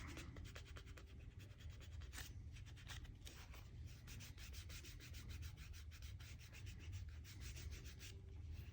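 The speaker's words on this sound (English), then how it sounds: "I'll rub it with my hand first just to give it, kind of get it smoothed down while it's still wet." A hand rubs a wet leather beavertail knife slip to smooth it down, a steady close scratchy rubbing in quick repeated strokes, faint and continuous with no voices.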